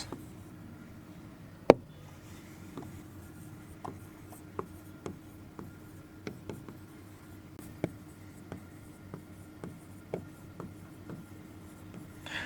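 A pen or pencil writes an example sentence on paper, giving a soft, steady scratching with small taps and strokes, close by and quiet.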